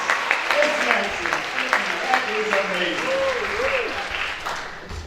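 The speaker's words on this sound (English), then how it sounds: "Let's give him another round of applause" Applause from an audience at a community gathering, steady broadband clapping sustained throughout with a few voices talking and exclaiming over it.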